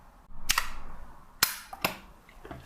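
Clicks from the central leaf shutter of a Vilia film camera: three sharp, close mechanical snaps spaced about a second apart, with faint handling noise between them and no voices.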